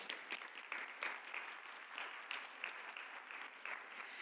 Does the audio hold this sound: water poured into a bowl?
no